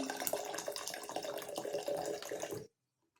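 White vinegar poured into a marinade for pickled eggs, a steady close liquid stream splashing for over two seconds before stopping abruptly into silence.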